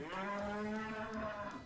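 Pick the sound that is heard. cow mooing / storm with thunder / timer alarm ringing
cow mooing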